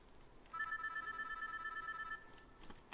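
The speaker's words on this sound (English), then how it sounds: "The next thing I hear is a faint, nostalgic ringtone." A faint, old-fashioned phone ringtone in a Minecraft story plays as a steady electronic tone that holds for about a second and a half, followed by a brief sharp sound at the end.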